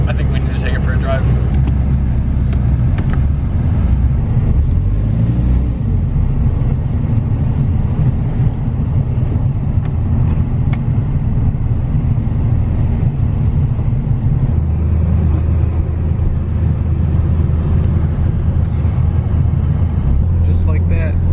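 A rebuilt 1991 Mitsubishi Eclipse GSX out on its first drive, its engine rumbling loud, steady and close throughout from inside the cabin, with people talking over the engine noise.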